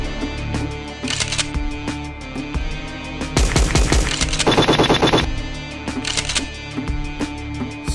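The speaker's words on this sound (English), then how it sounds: "A machine gun. Powerful." Machine gun fire in a spy video game crackles in rapid, loud bursts over a steady game soundtrack, with the densest volley in the middle of the stretch.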